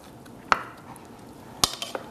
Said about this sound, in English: I'm just chopping up the chicken into smaller pieces, and then I'll place it in this bowl.